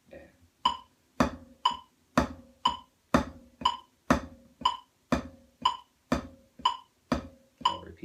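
Snare drum played in a steady rudiment, sixteen crisp strokes at an even pace that alternate soft upstrokes on the downbeats with louder accented downstrokes on the upbeats, close and dry with no talking.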